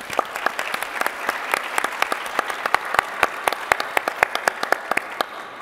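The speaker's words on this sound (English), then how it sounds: "So give yourself a round of applause." Conference audience at a plenary session applauding, a steady patter of claps with sharp individual hand strikes standing out close by, sustained evenly throughout.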